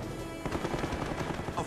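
Cannon fire from German Me 262 jet fighters breaks out after a brief lull as a rapid, dense string of bursts, loud and close, continuing without pause.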